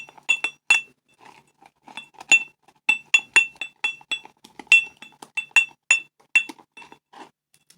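A shaving brush whips lather in a bowl before a straight-razor shave, striking the rim in a quick irregular run of bright, ringing clinks, close and alone.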